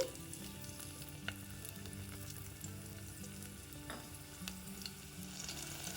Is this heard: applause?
no